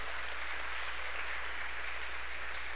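An audience at a forum applauds, a dense, steady patter of many hands clapping at moderate volume for a few seconds, with no speech over it.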